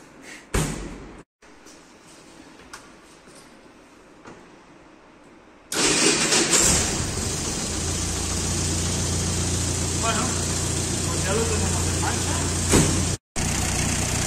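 An 80-year-old Ford car engine, running without an air filter, cranks and catches after a quieter stretch with faint voices, then settles into a loud, steady close-up run with a brief dropout near the end.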